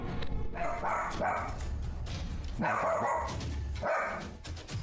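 A dog barks at a doll indoors: three loud bursts of rough, agitated barking in quick succession, each followed by a brief gap, close to the microphone.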